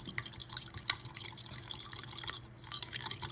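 A quarter cup of chopped scallions being whisked in a bowl, giving a steady run of light wet clicks and sloshing taps close by at a quiet level, with no talking.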